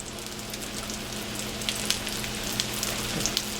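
Burgers fry in oil in a skillet, giving a steady close sizzle with scattered sharp pops and spits on top.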